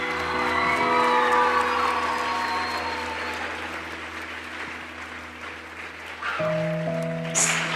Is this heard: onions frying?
no